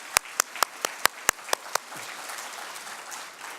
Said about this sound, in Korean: give a hand for our children who kept their secrets.